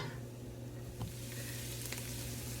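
Vegetables for a curried carrot, sweet potato and ginger soup sizzling steadily in a pan, a soft, close crackle with a couple of brief stirring scrapes.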